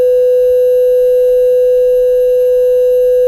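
A censor beep sounds as one continuous, very loud pure tone held steadily for the whole stretch, alone and unbroken.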